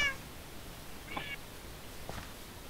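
Two short, faint meows from a cat in the video game Minecraft, about a second apart, over quiet background hiss.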